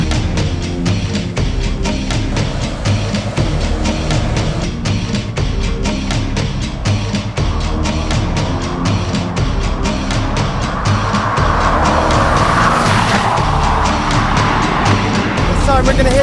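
Bugatti Veyron Vitesse engine roars steadily as it accelerates along an oval test track, with loud, sustained engine noise and rumbling tyre and wind noise throughout. A voice talks over it.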